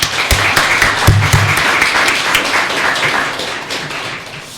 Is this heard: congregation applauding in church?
yes